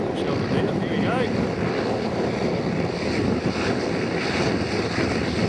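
A full-sized Cessna 180 coming in for a crosswind landing at Tokoroa airfield gives off a steady propeller-engine drone mixed with heavy gusting wind noise, constant and fairly loud throughout.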